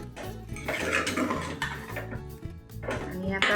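A spoon scrapes and clanks against a pot while chicken curry ingredients are stirred together for a Maharashtrian thali, a steady repeated metallic rhythm of stirring with some low background sound underneath.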